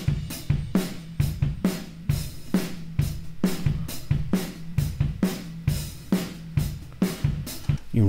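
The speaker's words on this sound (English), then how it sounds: "You really hear the sound of the kit in the room" A drum kit captured by omnidirectional room microphones plays a steady groove of kick, snare and cymbals, roomy and reverberant rather than close, with no talking.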